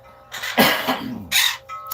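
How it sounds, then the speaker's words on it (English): A single loud, harsh cough burst, then a second shorter cough after a brief pause, close to the listener with no talking. "Excuse me about the cough."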